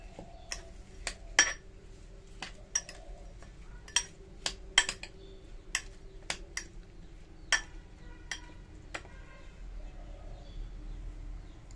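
A spoon stirs a sugar-free diet drink with lemon squeezed in, giving a scattered run of sharp, bright clinks at an irregular pace over a quiet background hum.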